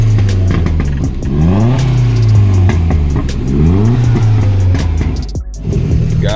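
Turbocharged four-cylinder M42 engine in a BMW E30 revving hard on a two-step launch limiter, loud and close, with repeated rising and falling sweeps and sharp crackling pops throughout.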